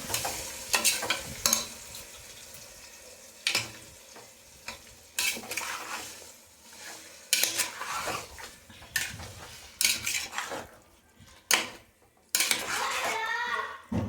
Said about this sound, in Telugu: ఇదే ఆయిల్లో ఇప్పుడు మ్యాగ్నెటేషన్ చికెన్ అయితే వేస్తాను దీన్ని మంచిగా కలుపుకోవాలి